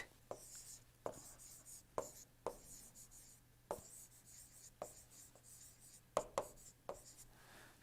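Chalk or marker writing on a board in a lecture, with a steady series of sharp taps and short strokes, close and fairly faint, no talk over it.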